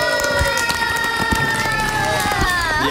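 People in a radio studio cheer and shout excitedly to celebrate a K-pop group's new album, a loud, continuous burst of lively voices close by.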